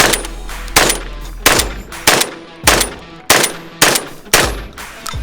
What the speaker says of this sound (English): I did a tube through the standard Panzer, then I did a tube through this one